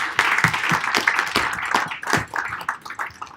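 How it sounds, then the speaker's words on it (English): A room full of people at an investment conference in New York claps in a dense, steady round of applause, moderately loud, with a few voices mixed faintly underneath. "Maybe we'll give them a round of applause."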